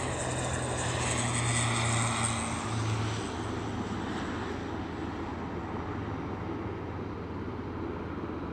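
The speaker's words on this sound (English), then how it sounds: "fairly recently arrived Aer Lingus ATR" An Aer Lingus ATR turboprop airliner at Aberdeen airport gives a steady propeller drone with a low throbbing hum, loud at first and easing slightly over several seconds.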